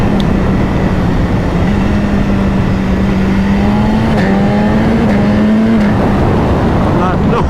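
A BMW HP4 sport motorcycle with a quick shifter roars loudly and close, its engine note holding steady and then climbing through quick upshifts near the end, with wind noise throughout.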